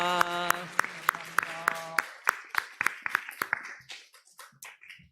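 A church congregation claps during a Korean Thanksgiving Sunday service, sharp hand claps in a quick, fairly regular rhythm over sustained chord tones early on, thinning into scattered, fading claps toward the end.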